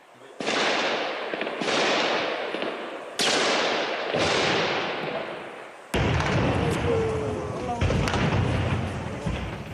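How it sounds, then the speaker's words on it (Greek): Gunfire and explosions during an armed police raid come as a series of sharp, loud blasts, each trailing off in a rumbling echo, with several heavy reports spaced a second or two apart and more crackling shots after. "Η ανταλλαγή πυρών συνεχίζεται και οι εκρήξεις διαδέχονται η μία την άλλη."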